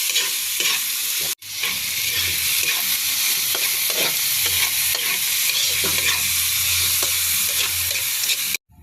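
Shrimp with misua sputters and sizzles loudly in a frying pan while being stirred, scraping and clinking strokes repeating over a constant hiss, framed by abrupt cuts near the start and end.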